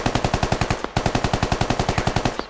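Assault rifle fire in a tactical shooter sprays out in two rapid, evenly spaced bursts of loud, close shots with a tiny gap between them, and nothing else audible.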